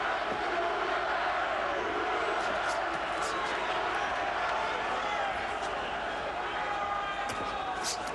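Dense, steady roar of a large crowd at a professional boxing match between Chris Eubank and Carl Thompson, continuous and loud throughout with occasional sharp shouts rising above the din.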